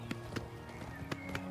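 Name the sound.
horse hoofbeats in video game Oblivion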